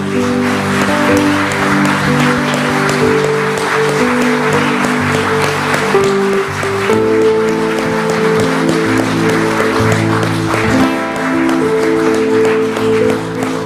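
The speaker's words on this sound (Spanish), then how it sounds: "Dale un aplauso al Señor gigante." A church congregation applauds in praise during a sermon, steady clapping blended with sustained organ-like music tones and some voices.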